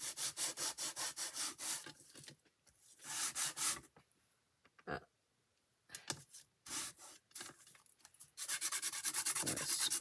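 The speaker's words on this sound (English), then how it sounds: "So I'm going to just scrape this." A nail file scraping across paper in a card-making craft project, rapid rhythmic back-and-forth rasping strokes in bursts, close and fairly loud, with a few quiet pauses and lighter scratches between.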